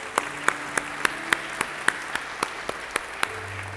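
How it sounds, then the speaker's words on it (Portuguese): A church congregation claps in unison at a Portuguese-language evangelical service, a loud, regular rhythm of about three claps per second with a low hum beneath. "E você pode aplaudir Jesus?"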